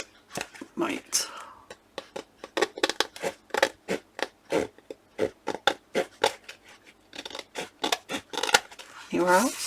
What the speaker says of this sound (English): Hang on, I'll get some scissors.